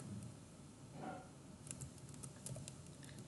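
Soft, quick keystrokes on a computer keyboard as a session name is typed into Notepad++, faint and close, with no one speaking.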